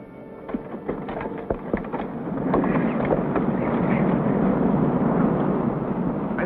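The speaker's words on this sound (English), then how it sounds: "The wind had begun to rise." Wind rising over a remote, lonely northern wilderness near Hudson's Bay, a broad steady rush that swells louder partway through, with a few faint knocks early on and no voices.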